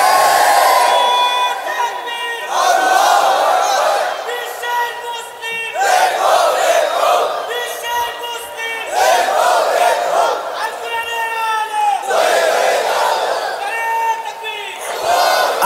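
A large crowd at an Islamic sermon shouts the takbir response in unison, with repeated loud, sustained collective cries rising and falling in waves and filling the space.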